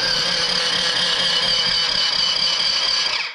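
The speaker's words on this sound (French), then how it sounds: "je me prends direct sur le démarreur avec mon booster" Starter motor of an old quad engine, powered by a booster pack, whirs in a steady, loud, high whine for a few seconds without catching, then cuts off. No voices.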